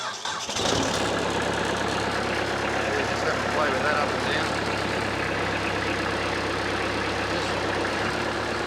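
A small tractor engine starts up and settles into a steady, close idle, with someone talking over the continuous mechanical rumble.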